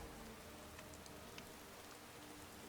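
Steady rain falls across the whole stretch in Skyrim, a dense, even hiss with scattered droplet taps, soft and continuous with no voices.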